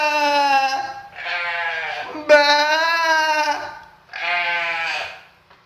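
A person imitates sheep bleating with four long, nasal, quavering bleats in close succession, loud and close, with no other sound between them.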